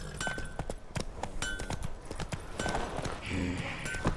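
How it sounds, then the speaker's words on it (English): A horse in the video game The Witcher 3: Wild Hunt trots past with a steady clip-clop of hooves, close by and clear, while someone talks over it. "There goes my horse just trotting by behind me."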